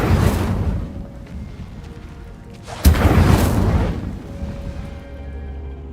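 Incendio fire spell cast in Hogwarts Legacy: two whooshing, booming bursts of flame a few seconds apart, each swelling loudly then fading into a low rumble.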